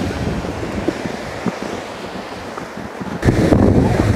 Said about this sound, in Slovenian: Prihajamo do kar dobrega vodometa.